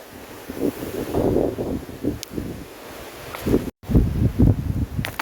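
Strong gusty wind buffets the microphone outdoors, a rough low roar that surges and falls in bursts, with a brief dropout partway through.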